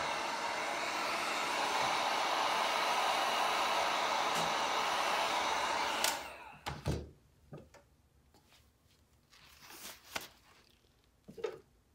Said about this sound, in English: Should I heat gun it?